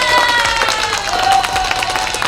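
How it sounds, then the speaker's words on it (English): A round of applause breaks out, steady clapping mixed with some cheering and crowd noise, fairly loud and continuous with musical tones faintly underneath. "Let me go ahead and give a round of applause right"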